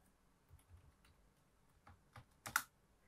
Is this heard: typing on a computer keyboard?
yes